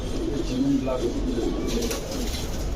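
Pigeons of several breeds, including Pakistani Teddy, Rampuri, Lahori and racer types, coo in a low, throaty, rolling pattern close by, with background voices and general noise around them.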